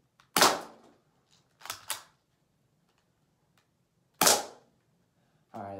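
An airsoft spring pistol fires a few sharp, snappy shots at irregular intervals, each a crisp crack with a short tail, separated by quiet, followed by a brief rustling sound at the end.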